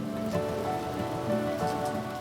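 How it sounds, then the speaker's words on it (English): A steady summer rain shower patters densely on surfaces outdoors, continuous and fairly loud throughout with no voices. "a rumble of thunder and a summer rain shower"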